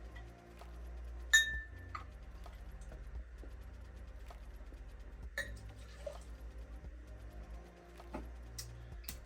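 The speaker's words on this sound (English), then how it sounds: "Then I'm gonna add 2 ounces of rye whiskey." Bulleit rye whiskey poured into a glass for a Manhattan, a soft liquid stream with a few small glass clinks and quiet handling, close and alone.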